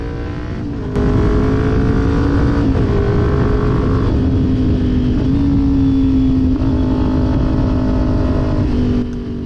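A Kawasaki Ninja 400 motorcycle engine revs loudly and close, with rev-matched blips and shifting pitch as it downshifts through the gears.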